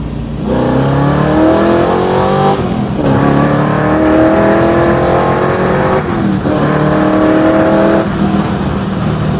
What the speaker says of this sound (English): fourth gear, fifth gear, cruising. Third gear, second gear,